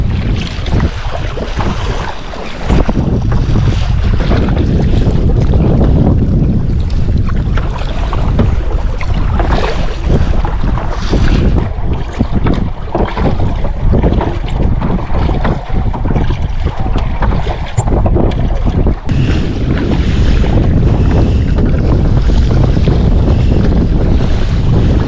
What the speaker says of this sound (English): Got pretty windy.